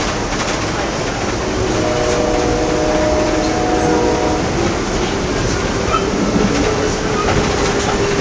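Amtrak Coast Starlight passenger train rolling on rails between Los Angeles and the Bay Area, a loud steady rumble with rhythmic wheel clatter and a brief horn-like tone, heard from on board.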